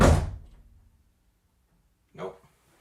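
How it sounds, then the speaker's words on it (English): A door is opened and closed as a test of a sound-activated switch: a loud thud, then near silence, then a second softer bump about two seconds later. "open and close the door, see what happens."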